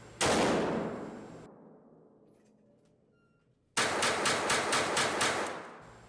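A Bersa Thunder .22LR pistol fires Federal ammunition: one sharp shot ringing into a pause, then a rapid string of about seven close, loud shots in quick succession.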